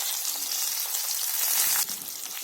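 Onions sauté in a pan for sambar, a loud, hissing sizzle that holds steady for a couple of seconds, then eases slightly near the end.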